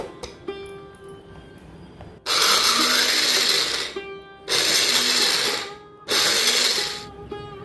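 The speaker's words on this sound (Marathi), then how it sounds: "आता मिक्सरमध्ये जाडसरच जरा वाटायचं" A kitchen mixer grinder coarsely grinding peanuts and green chillies without water, running in three loud bursts of about two seconds each, separated by short quiet pauses.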